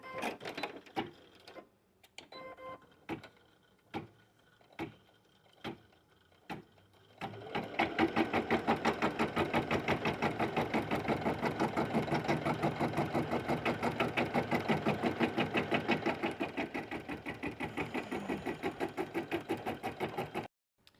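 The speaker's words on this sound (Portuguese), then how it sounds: "Primeiramente, a máquina vai fazer a marcação para mim." An embroidery machine stitches placement markings for a dish-towel hanger, first with a few separate stitching bursts, then settling into a long continuous rapid needle run, close and steady.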